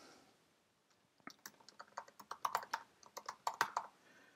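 Keys clacking on a computer keyboard as a budget policy is typed, a quiet pause at first and then a steady run of close, crisp keystrokes in uneven rhythm, with no talk.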